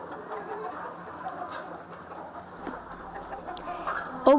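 Chickens clucking softly in the background, a low, continuous murmur of farmyard fowl with faint scattered calls, while a person talks over it.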